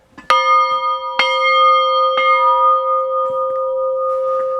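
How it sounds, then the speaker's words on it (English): An old brass steam-train bell, snow-covered, rings close by, three clear strikes about a second apart, each tone ringing on and slowly fading. "There's snow on the old brass bell."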